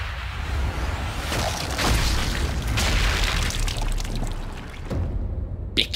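Sniper rifle fired with quiet subsonic ammunition in the video game Sniper Elite 5, a muffled boom set in a steady rushing ambient wash, with a sharp brief crack near the end.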